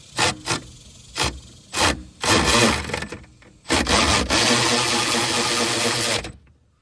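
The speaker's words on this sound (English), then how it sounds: "this side is pretty easy to get with a power wrench" A power wrench spinning off brake booster nuts on a Ford Ranger: a few short bursts, then longer sustained runs of whirring and rattling, close and loud.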